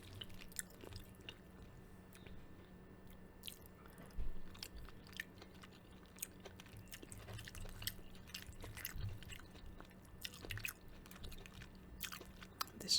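Close, quiet chewing of shrimp egg foo young with onions, soft wet bites and squishy mastication repeating irregularly over a low hum.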